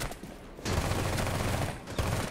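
Alibi's ACOG-scoped gun firing in Rainbow Six Siege, a sustained burst of rapid, loud shots after a short opening shot, continuing for about two seconds.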